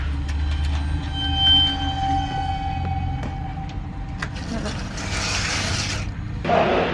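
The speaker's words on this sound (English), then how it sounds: "hauled by Class 68 locomotive, unexpected" Train noise from on board a train hauled by a Class 68 diesel locomotive: a low engine drone with steady rumble, squealing wheels and clattering over the rails, a hiss of brakes near the end.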